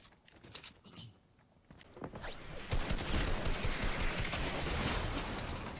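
Rapid infantry rifle gunfire in the battle royale game Fortnite, starting with scattered sharp shots and building into a dense, sustained volley of fire that dominates the second half, with no speech.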